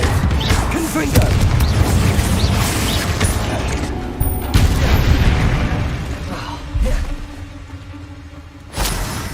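Confringo blasting spell explosions in the video game Hogwarts Legacy, repeated booming bursts mixed with mechanical clanks and whooshes, loud and close over a sustained battle din.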